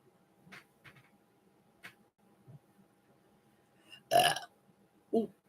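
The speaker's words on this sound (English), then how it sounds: "I just can't believe I burped on my own stream." A loud, close burp from a person, a single hearty belch rising out of quiet background sounds near the end, followed shortly by a second short burst.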